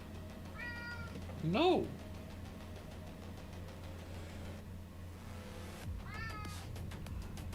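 A cat gives a few meows, one louder rising-and-falling call among shorter chirpy ones, over a steady engine-like hum, with a brief spoken word nearby.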